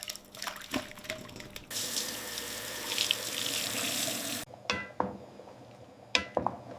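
Tap water runs and splashes into a sink as soaked ingredients for traditional festive sweets are rinsed, a steady gush broken by clinks and short bursts of flow.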